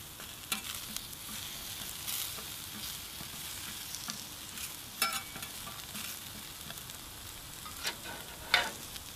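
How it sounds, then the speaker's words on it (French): Sweet potatoes cook on a plancha griddle with a quiet, steady sizzle, punctuated by a few brief scraping or stirring clicks. "la pomme de terre douce cuit très rapidement. Ça cuit en 6-7 minutes."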